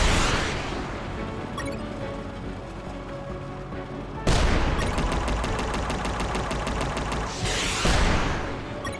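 Gunfire in the UnMetal video game: loud, dense bursts of rapid shots with a sharp burst of fast repeated fire in the middle, over a continuous game soundtrack.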